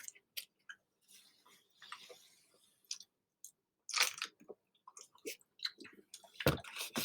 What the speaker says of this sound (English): I just mindless ate a piece of gum